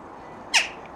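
A jackdaw imitating a magpie gives a single short harsh squawk, close and fairly loud against quiet background.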